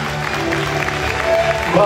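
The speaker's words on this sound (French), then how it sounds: "Vous pouvez l'applaudir bien fort" Applause from a pageant audience, a short burst of clapping that swells toward the end, mixed with a speaking voice over a loudspeaker.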